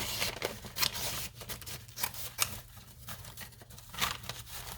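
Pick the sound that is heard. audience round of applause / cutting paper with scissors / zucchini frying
cutting paper with scissors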